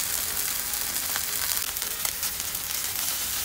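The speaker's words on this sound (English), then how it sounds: "Brown the beef over medium-high heat for 30 seconds each side." Beef browning in a little oil in a pan over medium-high heat, a steady close sizzle with scattered sharper crackles and pops throughout.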